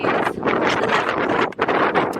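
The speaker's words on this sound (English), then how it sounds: "Sorry, it's so windy." Strong wind buffets the microphone beside a hotel pool in Costa Teguise, Lanzarote, in loud, continuous gusts with a brief dip partway through.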